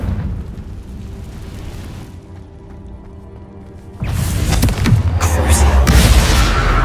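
A Confringo spell explosion in Hogwarts Legacy: a quiet, low ambient stretch gives way at about four seconds to a loud, booming blast that keeps rumbling and crackling to the end.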